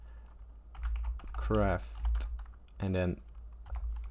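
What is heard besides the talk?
typing a command on a computer keyboard in Minecraft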